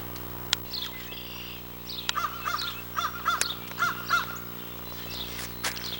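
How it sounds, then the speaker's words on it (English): A crow caws several times outdoors in short raspy bursts, mid-distance, with faint chirps and a steady background hum. "You hear the crow?"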